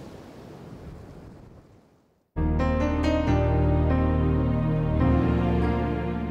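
Strong wind and waves at sea buffet the boat Libertalia off Madagascar, a steady broadband roar of gusts and surf that fades after about two seconds before loud music abruptly takes over.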